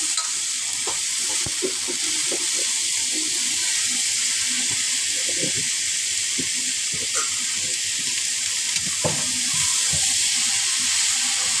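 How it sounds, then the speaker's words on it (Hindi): Capsicum and potatoes frying in masala in a pan, a steady close sizzle with scattered scraping and stirring clicks throughout. "अब मैं डालूंगी शिमला मिर्च और आलू।"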